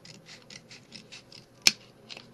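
Scissors snip through a cardboard toilet paper roll in a quick run of soft rhythmic cuts, then a single sharp, loud clack and one more snip, close and alone.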